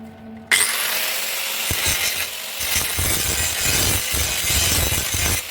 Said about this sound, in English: I might as well grind just a little bit more off